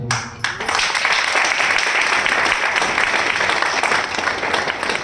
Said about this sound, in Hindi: जिस तरीके से आपका तालियों की गड़गड़ाहट जो मुझे सुनाई दी